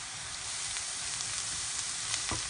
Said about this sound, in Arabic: من بعد ما تحمرت لينا البصله غادي نزيدو عليها الجزر محكوك